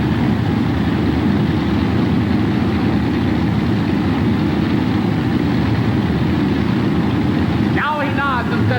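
A pulling tractor at a 1988 truck and tractor pull in Hampton, Virginia, idles with a steady, loud, low rumble while the driver struggles to get it into gear. The engine drones continuously, and a brief burst of voices rises near the end.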